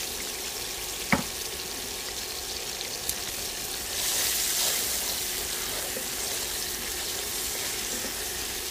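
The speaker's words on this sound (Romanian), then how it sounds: "În același ulei pun păstârnac, morcov, ceapă și ardei tapia." Parsnip, carrot, onion and tapia pepper fry in oil already used for chicken, a steady close sizzle with a couple of sharp clinks and a louder hissing surge partway through, and no speech.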